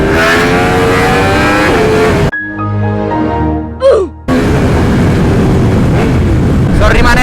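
A Yamaha R1 sport motorcycle, running on 100-octane fuel, roars loudly on an open road as its engine revs and climbs through the gears. The roar cuts out briefly in the middle before the same hard, close engine noise resumes.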